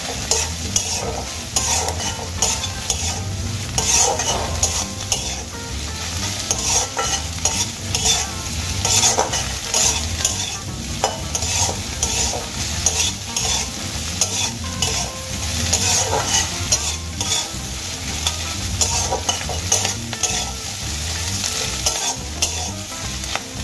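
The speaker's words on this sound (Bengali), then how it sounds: "এবার আমি মাথাগুলো খুব ভালো করে ভেজে নেব।" Prawn heads frying in a pan with dried chillies, a constant loud sizzle broken by frequent scraping strokes of a spatula stirring them, close up with no talking.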